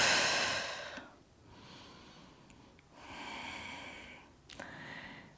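Deep, slow breaths during a Pilates glute stretch, close and airy, with long breathy exhalations and inhalations repeating in a calm rhythm.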